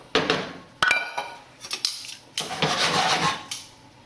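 Spaghetti carbonara being stirred through in a pan with an egg and parmesan mixture, heard as scattered clinks and scrapes of utensil against pan, irregular and close, with no talking.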